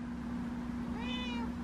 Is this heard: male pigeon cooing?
no